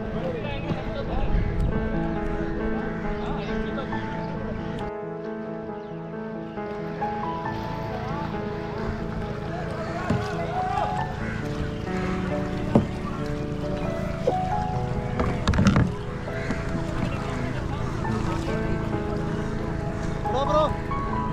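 A kayak moves along the water at Varkala, with paddles splashing and dipping beneath a persistent wash of wind and surf, while people talk over it throughout.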